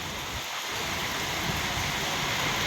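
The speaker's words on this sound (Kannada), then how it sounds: "ಈ ಭಾಗವಾಗಿ ಒಳ್ಳೆ ಮಳೆ ಆಗ್ತಾ ಇದೆ" Steady rain pouring down in the Kodagu region of Karnataka, a dense continuous hiss close by with no voices.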